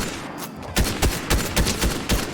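Rapid gunfire from assault rifles in a Fortnite match at medium to long range, a burst of about seven evenly spaced sharp shots over steady game ambience, fairly loud and with no talk over it.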